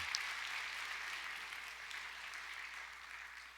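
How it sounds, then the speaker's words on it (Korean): Steady applause from a church congregation at a New Year's Eve service, a dense, even wash of many hands clapping together, moderately distant and continuing without a break. "다 함께 영광의 박수 올려드리겠습니다"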